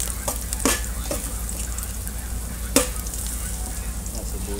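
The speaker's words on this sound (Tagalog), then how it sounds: "lagay na natin ating bawang. Mainit na mainit na mantika, galit na oh." Garlic frying in very hot cooking oil, a steady close sizzle with a few sharp crackling pops scattered throughout.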